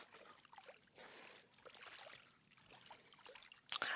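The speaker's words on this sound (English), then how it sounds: "I just love the sound of the water" Gently flowing water in the video game Paper Mario, a soft steady wash of broadband noise with slight swells, fairly quiet and alone, ending in a brief brighter splash-like burst.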